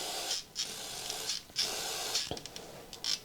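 An aerosol spray can fitted with a replacement nozzle taken from another can gives out a steady hiss in several short bursts, each ending in a brief break, heard close up.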